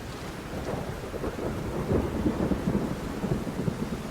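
Torrential monsoon rain over the dam catchment area in Maharashtra roars steadily and loudly, with low rumbling thunder pulsing underneath throughout.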